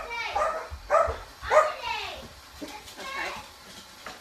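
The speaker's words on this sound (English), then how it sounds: "just had somebody come in the door. The dogs are barking." Several dogs barking indoors at someone arriving through the door, a few sharp barks close by at an irregular pace, mixed with children's voices and household talk.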